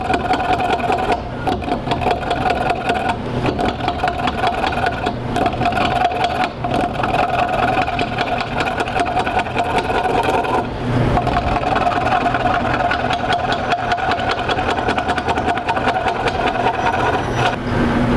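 Continuous grinding and scraping of a lathe gouge cutting through a knot while turning a wooden porch post, with a steady mechanical hum and rhythmic chattering throughout.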